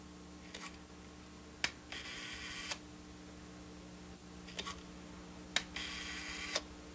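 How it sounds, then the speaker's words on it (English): A Stereo Realist camera shutter, freshly cleaned, fires several times, crisp mechanical clicks and whirring bursts spaced a second or two apart over a faint steady hum. "you can test the shutter."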